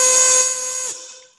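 A V-cut drinking straw blown like a reed gives a piercing, steady, buzzy whistle, loud and close for about a second before it wavers, drops and fades out.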